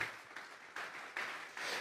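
A church congregation claps together as an offering of praise, a fairly quiet, steady wash of applause with a few swelling bursts, heard without speech.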